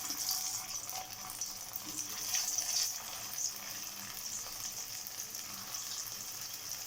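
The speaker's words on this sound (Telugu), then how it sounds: "నూనె వేడైందండి, ఇందులోకి ఒకటొకటిగా వేసేసుకుంటాము" Sabudana vadas fry in hot oil, a constant close bright sizzle and crackle that holds steady throughout with a few brief swells, no voices.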